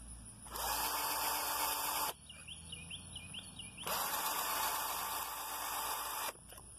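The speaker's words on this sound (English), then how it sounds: "pull the trigger on the drill" Cordless drill driving a homemade pencil sharpener, with two loud bursts of high whirring and grinding, each about one and a half seconds long, separated by a brief quiet pause.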